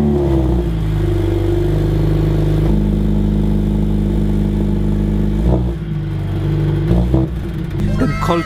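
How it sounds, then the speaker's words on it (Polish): New Mercedes car engine idling steadily after a cold start, a close, even low hum with brief revs and clatter near the end. "Cold start po prostu jest tak piękny, to tak fajnie brzmi."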